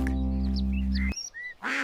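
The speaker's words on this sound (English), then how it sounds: "He heard a quack that sounded scared." A cartoon duck quacks in an animated nursery rhyme, a few short bright calls after a steady musical tone, fairly close and clear with no talk over them.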